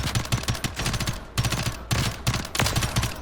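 Rapid automatic gunfire from a loadout in Call of Duty Warzone, loud and close, several sustained bursts with brief gaps between them.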